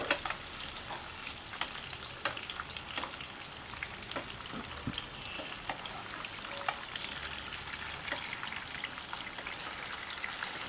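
Fish marinated in chilli powder, turmeric and salt sizzles as it fries in oil, a continuous close crackle and spatter with scattered sharper pops throughout and no talking.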